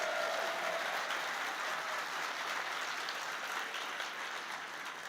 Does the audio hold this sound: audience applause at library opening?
yes